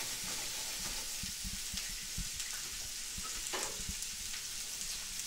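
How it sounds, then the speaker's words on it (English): Vegetables sizzle and crackle loudly in a hot frying pan, a steady hiss broken by a few soft stirring knocks, with no talking. "Listen to that sizzle."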